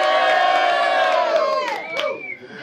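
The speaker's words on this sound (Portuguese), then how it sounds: "Então, vamos gritar com força." A crowd at a Brazilian rap battle final shouts and cheers loudly, a dense wall of voices that swells and then breaks into scattered whoops near the end.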